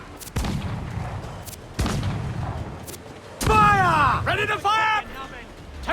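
Cannons aboard a sailing warship boom in a naval video game battle. Three heavy shots come at spaced intervals, followed by shouting voices and a whistling, wailing passage under the din.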